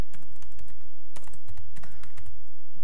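Close, brisk typing on a computer keyboard as a shell command is entered, a burst of uneven key clicks and taps with short pauses, loud and alone.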